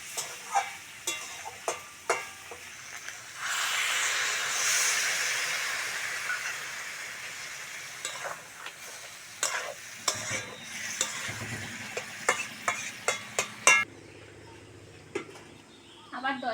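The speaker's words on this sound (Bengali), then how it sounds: "এইবার জল দিয়ে দেবো।" Spatula strikes on a pan of fried spices and banana stem, then water poured in bursts into a loud steaming sizzle and hiss lasting several seconds, followed by more clinking stirs and a fading simmer.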